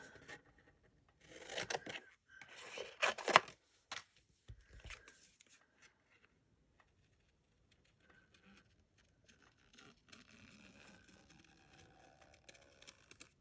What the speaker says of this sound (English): let's go ahead and cut this out